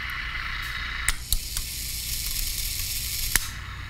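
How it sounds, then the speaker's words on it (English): A Panasonic Radar Matic receiver gives off continuous broadband static and hiss while being tuned through a weak band, with a few sharp clicks and crackles and no clear station coming through. "it's, you know, a real dead zone down here, but there's a radio station in there"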